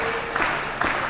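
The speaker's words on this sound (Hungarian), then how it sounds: "csak a taps, csak a taps" A crowd at a women's handball match between MTE and Győr gives brief, steady applause, a soft wash of clapping heard from a distance with a couple of small swells.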